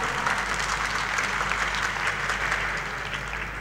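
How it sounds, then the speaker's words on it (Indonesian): A crowd applauds steadily at a corporate public expose event for PT Global Sukses Digital Tbk in 2024, a dense, even wash of clapping over a low hum throughout. "Mungkin kita bisa beri tepuk tangan sekali lagi untuk Ibu Imelda Gunawan."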